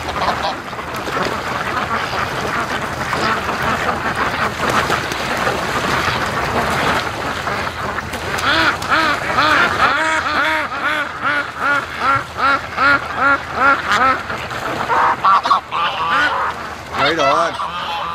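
Free-range Muscovy ducks rush toward a lake, giving loud, repeated honking calls that build into a rapid rhythmic series near the end, close by, with a voice talking intermittently underneath.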